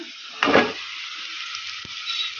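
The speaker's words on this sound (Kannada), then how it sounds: "ಈ ನುಗ್ಗೆಕಾಯಿನ ಹಾಕ್ಬಿಡೋಣ" Peeled drumsticks drop into a hot pan with browned onions for sambar, raising a sudden loud hiss that settles into a soft steady sizzle, with a brief metallic tap near the end.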